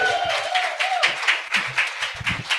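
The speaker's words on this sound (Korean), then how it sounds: "큰 박수로 부탁드리겠습니다." Applause from a seminar audience welcoming the final lecture at a Korean leadership rank-up event, a brief burst of clapping with a voice trailing through the start, moderately loud and close.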